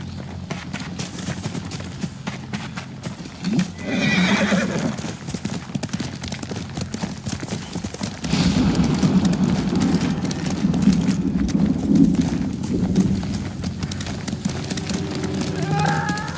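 Horse hooves clip-clop at a galloping pace in the samurai video game Ghost of Tsushima, rhythmic and close, with game voices and ambience layered over the running steps.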